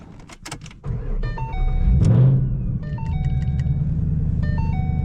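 A key jingles, a 2014 Ford Mustang GT engine cranks and catches with a loud roar, then settles into a deep, steady idle while chimes beep repeatedly.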